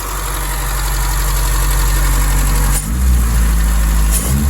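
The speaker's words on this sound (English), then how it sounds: "It idles good, it's a little bit high idle." A 1961 Triumph TR3A engine idles slightly high, a loud steady low rumble with constant vibration and two brief dips in the tone, no voices over it.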